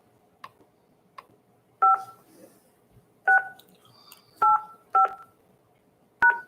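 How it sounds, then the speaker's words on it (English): Telephone keypad DTMF tones entering a conference call access code: a few faint clicks, then five distinct dual-tone beeps spaced irregularly, clear and close, with no voices. "Please enter your access code followed by the pound or hash sign."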